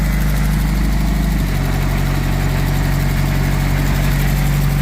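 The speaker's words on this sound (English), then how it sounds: "Got to pull the clutch lever, jam it into first, give it a little bit of gas" An engine put in first gear through a four-speed transmission drives a belt-run pump for water-well fracking, rumbling loudly and steadily with a deep drone that settles to a lower pitch after the first second.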